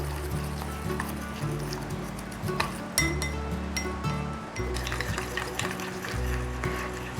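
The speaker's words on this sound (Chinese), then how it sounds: "放入120 cc 的过滤水，一面放一面搅拌，调成一个比较稀的面糊" Water being stirred into a thin batter in a bowl for a vegan eggplant dish, with rapid clinking of a utensil against the bowl and soft liquid swishing, close and continuous.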